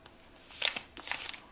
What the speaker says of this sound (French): On plie et on fait le dernier feuillet.